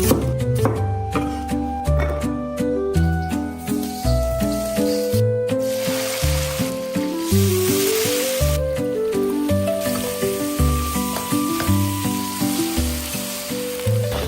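Red-braised pork ribs being chopped and fried in a home kitchen: a steady run of loud, close knife chops on a board over a continuous sizzle of frying, with no talk.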